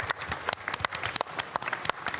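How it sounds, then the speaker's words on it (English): An audience applauds the Team Lexus drivers at the GT World Series 2024 World Finals Manufacturers Cup grand final, a brisk, crackling patter of many hands that stays steady, with no voices over it. "A round of applause once again for Harold Valson, Takoke Lopez, Kanata Kawakami for Team Lexus"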